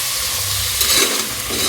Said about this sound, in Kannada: ಈಗ ಇದು ಒಂದು 5 ಮಿನಿಟ್ಸ್ ಕ್ಲೀನಾಗಿ ಎಣ್ಣೆಲಿ ಫ್ರೈ ಆಗಬೇಕು. ಕಡಲೆಕಾಯಿ ಹಸಿ ಸ್ಮೆಲ್ ಹೋಗಬೇಕು.